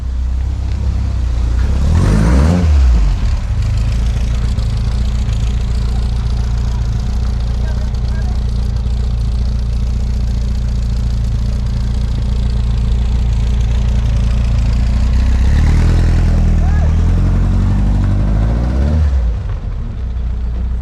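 Air-cooled engine of a restored barn-find Volkswagen single cab bus on its first drive, a loud steady drone with revving swells near the start and end, close by.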